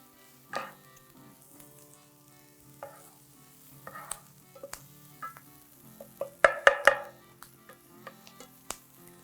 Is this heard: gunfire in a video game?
no